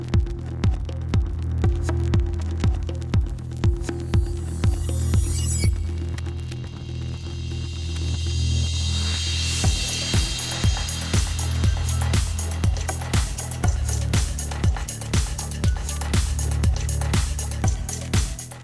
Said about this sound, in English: Now I want to clean it up a little more to make it nice and smooth. So let's go ahead, grab the sander